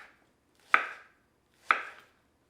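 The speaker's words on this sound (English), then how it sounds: "and then we'll just slice them" Two crisp knife cuts through peaches onto a cutting board, each a sharp clean chop followed by a brief fade, about a second apart, close and alone.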